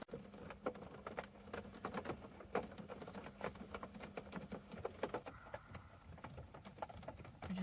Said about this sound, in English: It's gonna rain all day.